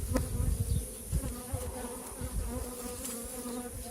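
Honeybees hum and buzz steadily around an opened hive with a weak queen, a close continuous drone with faint handling knocks underneath and no speech.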